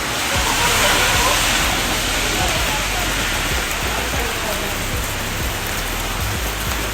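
Heavy rain pours down in a dense, steady hiss on surfaces in the Philippines, loud and continuous throughout with no break.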